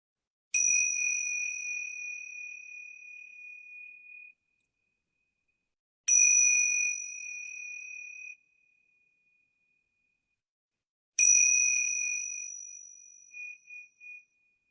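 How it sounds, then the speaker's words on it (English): Yoga bells are struck three times, about five seconds apart. Each bright, clear ring hangs and slowly fades in an otherwise silent room. "I'm going to ring these yoga bells 3 times."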